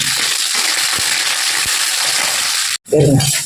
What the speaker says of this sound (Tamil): இப்போ சின்ன வெங்காயம் போடுறேன் இது நல்லா வதவும்